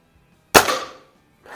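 A Feinwerkbau 124 spring air rifle fires a Crosman Premier hollow point at the range, one sharp, loud crack with a short ringing decay, then quiet before another faint noise starts.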